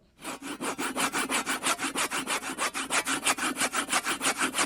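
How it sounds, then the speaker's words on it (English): A hand saw cutting through wood in quick, regular back-and-forth strokes, about five per second, close and clear with no voices. "Yeah, sawing wood."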